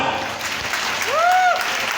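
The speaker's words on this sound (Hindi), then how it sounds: "मैं चाहूंगा इन लोगों के लिए जबरदस्त तालियां" Applause from an audience at a motivational gathering, clapping at a steady level with a brief whistle-like rising tone cutting through midway.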